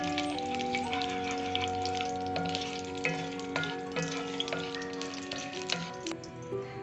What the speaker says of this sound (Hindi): अब हम इसमें 2 से 3 अदद जो हैं वो दालचीनी के टुकड़े और 9 से 10 जो हैं वो काली मिर्चें डालकर उनको थोड़ी देर के लिए फ्राई करेंगे